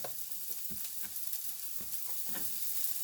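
Potato and sweet potato wedges sizzle quietly in a pan, with soft irregular scrapes and clicks as they are stirred, close and gentle with no talk.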